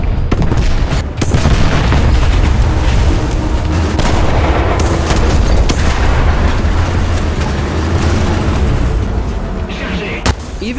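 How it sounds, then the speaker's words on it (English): Heavy tank cannon fire and explosions sound around a WWI Char 2C super-heavy tank in the War Thunder video game, a dense loud rumble with sharp booms, and a voice talks over it. "Ouch, getting a direct hit, while the other 2Cs notice where the shot had come from."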